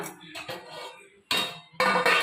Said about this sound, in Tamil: இப்போ இதை ஒரு தட்டை போட்டு அப்படியே மூடி வச்சிட்டோம்னா